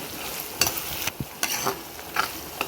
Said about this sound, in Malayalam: പച്ചമുളക് ഇഞ്ചിയും വെളുത്തുള്ളി എല്ലാം ഇട്ട് എല്ലാം വേപ്പിച്ച് എടുക്കാം